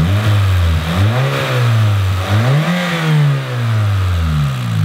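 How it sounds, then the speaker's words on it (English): An aging old car engine idles steadily with a light mechanical cam clatter over its low, continuous rumble, close up and fairly loud, with slight wavering in pitch throughout. "The cams on these, as they age, they make a little bit of noise"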